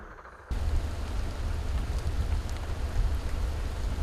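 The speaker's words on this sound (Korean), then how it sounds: "비가 내리는 오후 선방엔 사람들이 모여 참선 수행이 한창입니다." Steady rain falls at a Zen meditation temple in Jeju, a broad continuous hiss of drops that starts abruptly after half a second and stays even and fairly close throughout.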